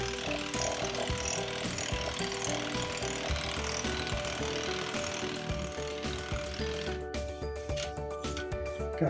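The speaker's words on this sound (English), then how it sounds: "We're going to run some of our anchors down into the ground." A powered driver pounds a long anchor down into sandy ground to secure a modular greenhouse, a steady, loud, continuous rattling hammer that runs for several seconds and then gives way to scattered mechanical clatter near the end.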